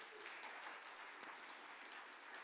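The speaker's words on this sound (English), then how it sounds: "So a big applause for our speakers." Faint, even applause fills a conference room after speakers, including a geography professor from Maynooth University, are introduced at an academic session; the clapping is distant and steady, with no distinct voices.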